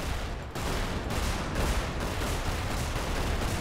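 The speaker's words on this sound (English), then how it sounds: "Jada, stop trying to shoot her and shoot these guys!" Dense, continuous volley of gunfire from the video game Magicka, a loud unbroken barrage of rapid shots with a brief dip near the start, no voices over it.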